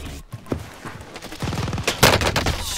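Bursts of automatic gunfire in the shooter game Warzone, several rapid volleys crackling at close range, the loudest near the end, with no talk over them.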